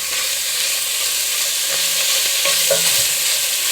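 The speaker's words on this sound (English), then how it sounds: "Throw these sausages in there. We're just gonna mix these around" Sausages for Cajun jambalaya fry over medium heat in a pot while a utensil stirs them, giving a steady loud sizzle with scraping and clinks scattered through it and no voices.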